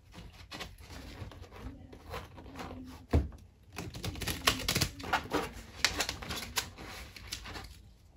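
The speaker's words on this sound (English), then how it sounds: "My cards are just flipping all over." Tarot cards riffled, flipped and shuffled during a reading, a dense run of quick papery flicks and slaps close up, with one sharp thump partway through and a busier flurry of card clicks afterward.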